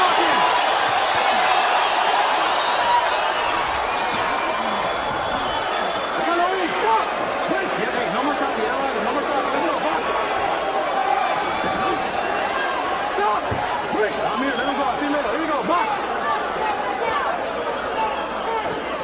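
A boxing crowd at the Shane Mosley vs Ricardo Mayorga rematch roars and chatters steadily throughout, a dense continuous wall of cheering and hubbub with no clear breaks.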